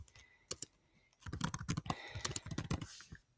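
Keys clatter on a computer keyboard, with a couple of isolated taps followed by a quicker burst of close, crisp keystrokes, alone in a quiet room.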